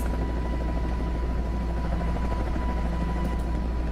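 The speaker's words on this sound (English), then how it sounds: "Rare 1970s helicopter footage reveals secrets." Helicopter in old 1970s footage, a steady loud rotor thrum and engine drone that holds without a break, with no talking.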